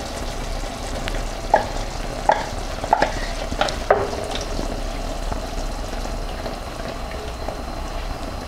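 A chicken and single cream sauce simmers and bubbles gently in a pan, with a soft steady sizzle and several sharp clicks of a utensil stirring against the pan.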